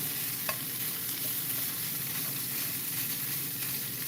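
Tofu scramble sizzles steadily in a hot pan, a constant close frying hiss with soft scraping as it is stirred, no voices.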